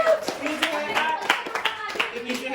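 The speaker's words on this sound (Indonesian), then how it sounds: "Tepuk tangan dong untuk Nirmiji." A classroom of students claps for a classmate during a teaching practice session, a short burst of scattered applause with voices mixed in.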